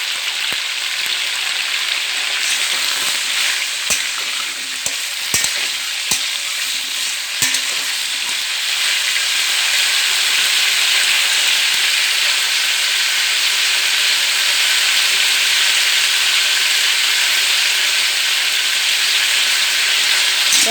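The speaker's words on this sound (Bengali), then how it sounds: "দেখো পটলটা আমার ভাজা হচ্ছে" Pointed gourd (potol) frying in a pan with salt, giving a loud, steady close sizzle and hiss throughout, with a few sharp utensil clicks early on.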